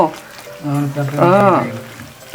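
Tiger prawns shallow frying in a pan give off a steady sizzle beneath a woman's speech, the frying continuing through the pauses between her words.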